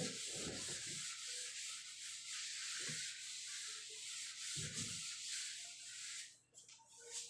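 Steady dry rubbing of a duster or eraser wiping writing off a classroom board, a continuous close scratchy swish lasting several seconds with faint low thumps and murmurs underneath.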